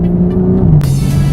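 A Porsche 911 997.2 Turbo in sport mode accelerates hard, its engine a loud, steady, rising roar heard from inside the cabin with a sudden burst of extra intensity partway through.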